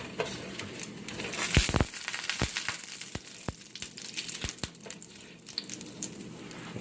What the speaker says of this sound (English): Since the jeera is getting done, I'm gonna saute it a little bit.